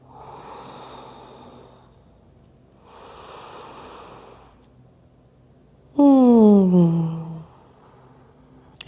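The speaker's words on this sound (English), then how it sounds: "breathe nice big diaphragmatic breaths" Slow, deep diaphragmatic breaths during a yoga practice, two long soft airy exhalations followed by a louder, sharper breath near the end, close and without talk.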